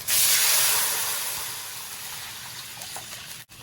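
Water poured into a hot wok of fried scallion and ginger sets off a loud, sudden sizzling hiss that gradually fades to a softer steaming bubble over a few seconds, with no talking.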